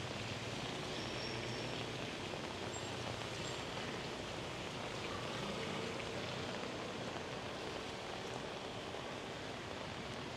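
Steady rain pours down on Pub Street in Siem Reap, Cambodia, at night, making an even, continuous hiss of drops spattering on pavement and surfaces, with no voices over it.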